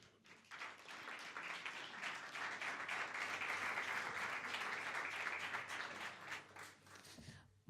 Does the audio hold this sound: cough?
no